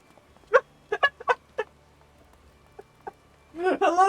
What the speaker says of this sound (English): Hello there, Mr. Chicken.